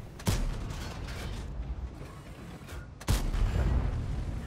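Tank gun in a World of Tanks-style game, fired from a Châtillon 25 t: two heavy booms about three seconds apart, each a sharp close blast followed by a rumbling tail, with no talk.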